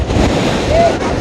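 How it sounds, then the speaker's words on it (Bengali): Big ocean waves roll in at night on Patenga sea beach, a loud, close, broadband wash of surf mixed with wind buffeting the microphone, brief and continuous. "বিশাল বড় বড় ঢেউ"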